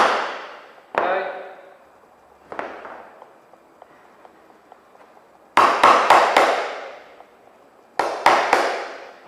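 A mallet striking a chisel into timber while a joint is cut, with sharp, loud, close knocks arriving singly and then in quick bursts of three or four, separated by quiet gaps.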